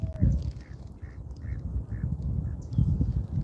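Ducks being fed peas, a rapid run of short, nasal quacks in a steady rhythm, close by over outdoor rustling and low background noise.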